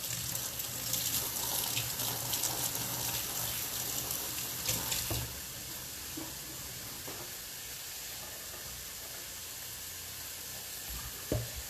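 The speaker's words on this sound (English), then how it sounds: "so I'm going to rinse this spoon off real quick." Kitchen tap water runs into a sink as a spoon is rinsed, a steady hiss and splash for about five seconds, then the flow stops, leaving faint clinks and room noise.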